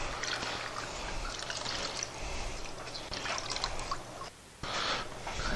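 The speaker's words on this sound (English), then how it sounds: "And then rinse your sponge." A tiling sponge is rinsed in a bucket of water, giving close, continuous sloshing and dribbling splashes with a short pause before the swishing resumes.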